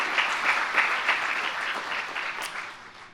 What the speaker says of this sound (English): give a round of applause to all of them